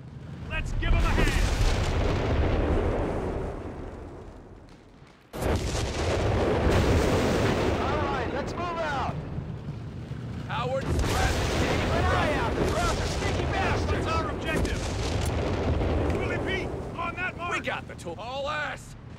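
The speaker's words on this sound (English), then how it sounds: "The Germans are targeting our commandos soldiers. With artillery." Artillery fire in Company of Heroes 3 during the Benevento campaign mission: heavy, repeated booming blasts and rumbling explosions with gunfire, loud and continuous, with a sharp cut midway and occasional voices in the battle mix.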